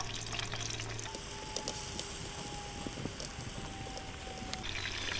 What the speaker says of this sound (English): Throw in some tomatoes.